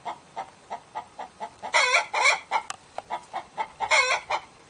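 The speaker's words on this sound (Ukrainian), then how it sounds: "Куткудакання курей це справжня мова." Chickens cluck in a quick, regular series of short calls, with a couple of louder, drawn-out squawks breaking in, fairly close and with no other sound.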